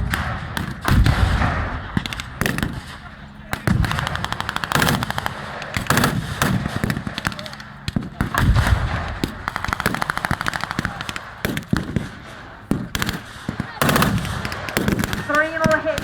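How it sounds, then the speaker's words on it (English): A 25-pounder field gun and other weapons firing at a WW2 battle re-enactment, with heavy booming thuds and bursts of rattling gunfire spread across the clip and a crowd murmuring between shots. "the 25-pounder fires."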